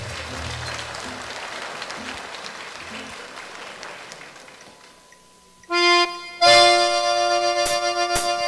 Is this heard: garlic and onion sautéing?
no